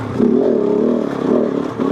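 A Kove 450 Rally motorcycle engine revs hard and close, pitch climbing and dipping through the gears in a steady loud drone with no talk over it.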